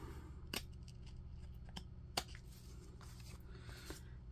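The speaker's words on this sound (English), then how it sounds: "Now with this one, I will just flip it over and I will just trim the ends down." Scissors trimming the ends of lace make a few crisp, quiet snips spaced a second or so apart, close and soft against a low background hum.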